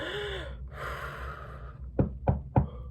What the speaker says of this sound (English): And a second knock on the door.